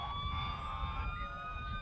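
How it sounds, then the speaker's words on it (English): A fire engine from a fire district, painted blue and white, runs its siren in a parade, a steady wailing siren with overtones heard at moderate distance over crowd and engine rumble. "with the sirens running"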